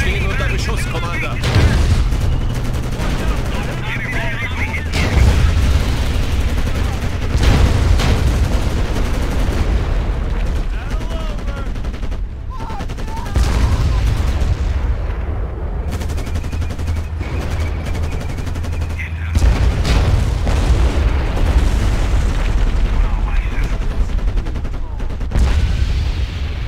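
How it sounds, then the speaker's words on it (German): Codename Panzers Cold War battle noise: loud gunfire, machine-gun bursts and heavy booming explosions repeat throughout, with deep thuds recurring every few seconds and a voice speaking intermittently over the fighting. "Unsere Einheiten stehen unter Beschuss, Commander."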